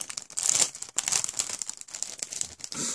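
Plastic wrap crinkles and crackles around a Dark Souls 3 PC first-edition standard game package, handled in close, irregular bursts for a few seconds with no talking.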